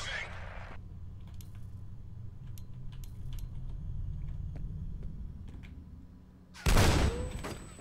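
Scattered weapon fire in the shooter F.E.A.R., from a grenade launcher and a shotgun, with faint clicks and pops over a low rumble, then a loud sudden blast near the end.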